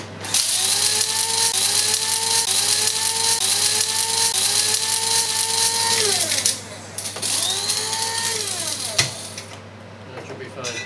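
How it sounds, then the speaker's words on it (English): A spice grinder whizzes cardamom and cinnamon powder in a few loud, high-pitched whirring bursts that wind down and start up again, then stops. "We'll just give those a very quick whiz together."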